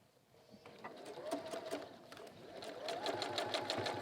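Sewing machine stitching along a seam, a quiet rapid whirring run of needle strokes that starts softly and picks up into a steady, faster stitching rhythm, close by with no talk.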